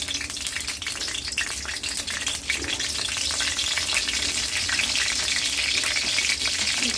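Dried chilies fry in hot oil, giving a loud, steady, crackling sizzle that continues unbroken throughout with no voices.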